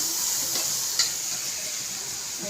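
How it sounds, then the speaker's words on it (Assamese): Cumin, coriander, garam masala and red chilli frying in a pan give a steady close sizzle with a soft stir near the middle. No one speaks. "এনেকৈ মই ভাজিম। ইয়াত মই জিৰা, ধনিয়া, গৰম মছলা অকণমান দিছোঁ, লাল মিৰ্চ অকণমান দিছোঁ।"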